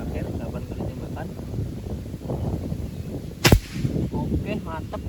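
A single sharp crack from a Bocap Predator 460cc bullpup air rifle fired outdoors, a loud brief snap standing out over wind and background noise, with a voice speaking before and after.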